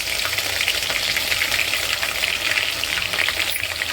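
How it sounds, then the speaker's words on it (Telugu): Ginger garlic paste with onions frying in hot oil for chicken curry, a steady dense sizzle with crackling throughout, close and loud with no talking. "ఇప్పుడు అల్లം వెల్లుల్లి పేస్ట్ వేసుకుందాం"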